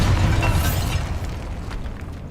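A Bombarda spell detonates in Hogwarts Legacy with a loud, close blast, followed by a rumbling, crumbling tail that slowly fades over about two seconds.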